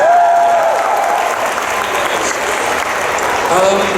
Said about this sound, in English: let's give her an applause again, everyone